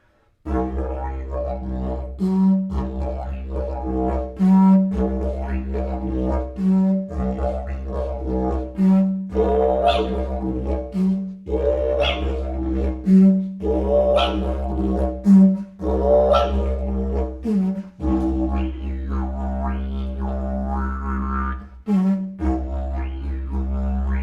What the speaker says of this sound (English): when you're playing a didgeridoo, you can do those high notes in with your regular standard playing